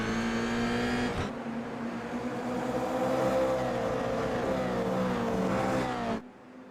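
Race cars, including a Toyota GR86, accelerate hard at Virginia International Raceway, their engines loud and close, climbing through the gears in a sustained rising roar before cutting off sharply near the end.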